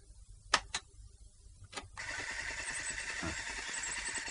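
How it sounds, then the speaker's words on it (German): Street traffic noise starts with a few sharp clicks and knocks, then builds into a steady, fairly faint, broad roar of passing vehicles. "Verkehrslärm und dieser,"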